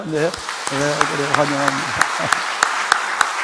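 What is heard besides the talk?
congregation clapping in church service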